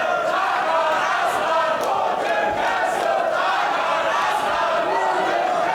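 Wrestling fans at Huxley's in Berlin, divided in support, chant and cheer in a sustained, loud roar of many voices filling the hall without pause.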